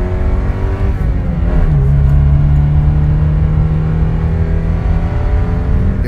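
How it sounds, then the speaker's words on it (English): Alfa Romeo GTV 2.0 twin cam four-cylinder engine accelerating, a loud close rasping drone that climbs in pitch, dips at a gear change, then holds steady. "Twin Cam 4 pulls eagerly while singing its lovely tune"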